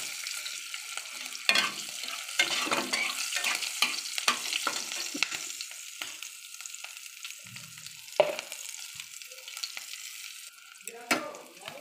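Nigella seeds hit hot oil beside green chillies, bursting into a lively crackling sizzle with sharp pops and spatters, close and clear, easing off in the later seconds.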